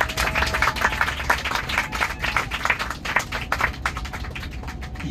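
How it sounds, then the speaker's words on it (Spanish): Pilgrims clapping for the Virgin at a Miraculous Medal pilgrimage, a dense burst of applause from a crowd that stays loud and steady throughout and eases slightly near the end. "Un aplauso para nuestra Virgencita."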